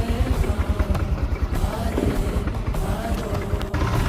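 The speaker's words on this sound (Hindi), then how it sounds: "फाइनली हमारा बाइक स्टार्ट हो चुका है" A motorcycle engine runs steadily at night, a close, even low putter with rhythmic firing pulses throughout and faint background sounds.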